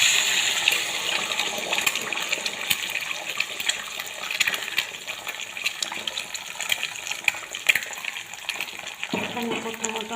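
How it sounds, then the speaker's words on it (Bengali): Eggs frying in hot oil for an omelette, a continuous crackling sizzle with sharp spattering pops, a hollow clatter near the end. "তেলটা আমার গরম হয়ে গেছে, লবণ দেব। এখন আমি ডিম দিয়ে দেব।"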